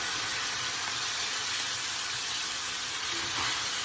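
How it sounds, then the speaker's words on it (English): Steady, faint hiss and crackle of sausage frying in a hot pan, continuous throughout with no talking. "I've turned up the heat on the sausage and it's starting to sizzle."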